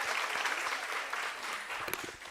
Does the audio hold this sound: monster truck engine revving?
no